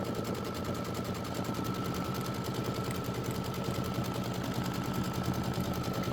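A home embroidery machine runs a tack-down stitch on linen, giving a fast, steady mechanical rattle that stays loud and continuous throughout, with no talk.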